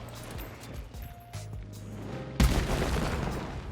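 An explosive barrel bursts in the Hunt: Showdown game after being shot, a single loud boom followed by a lingering burst of noise, with no speech.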